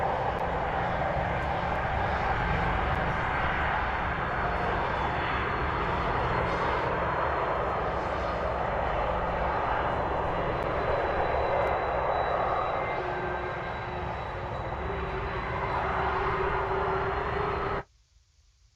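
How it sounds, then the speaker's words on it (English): Boeing 747 'Cosmic Girl' jet engines whining and roaring while the aircraft taxis, a loud, steady broadband rumble with a high whine that holds for most of the stretch before cutting off abruptly near the end. "Man, I miss the sound of them engines."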